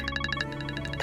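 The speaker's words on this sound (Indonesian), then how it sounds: "Mbak Ferni telepon, Kak" An incoming-call ringtone on a phone, a rapid repeating electronic chirp of evenly spaced bright tones, close and steady, sounding alone for about a second.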